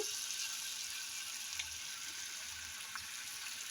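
Papaya and potato fry with spices in a pan, a faint steady sizzle with a few soft clicks of stirring, no voices over it.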